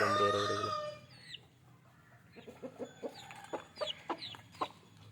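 A rooster crows loudly up close, then several native country chickens cluck in short, irregular bursts nearby.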